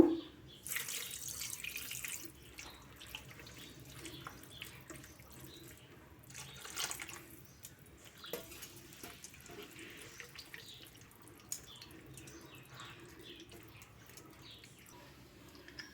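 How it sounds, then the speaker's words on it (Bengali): Water poured onto hand-mixed mourala fish in a kitchen: faint splashing, tap-like pours near the start and again midway, with quiet handling noises in between. "এখন একটু জল দেব।"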